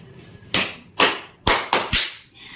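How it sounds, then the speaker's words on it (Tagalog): A classroom applauding, heard as five short, sharp bursts of clapping in a loose rhythm, each quickly cut off. "bigyan ng maraming palakpak ang bawat isa"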